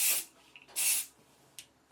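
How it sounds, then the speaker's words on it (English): Hairspray is sprayed onto slicked-back hair in two loud, close aerosol bursts of about a quarter second each, followed by a short, fainter third puff. "And then I'm going to take my hairspray"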